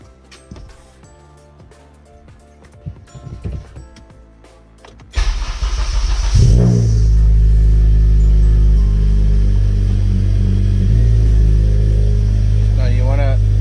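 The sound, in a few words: Acura ILX car engine starting and running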